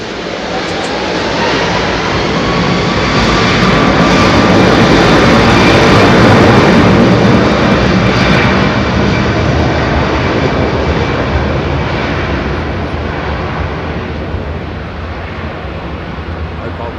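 A jet airliner passing at Heathrow Airport, a loud, steady broadband roar that swells to a peak midway and slowly eases off, filling the whole stretch.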